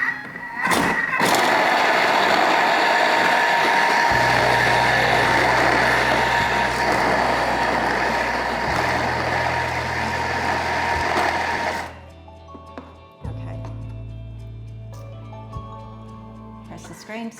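A Thermomix blends vegetable stock paste at speed 6, giving a loud, close, steady motor roar for most of the clip before it winds down. Then a low hum continues alongside clearer electronic beeps.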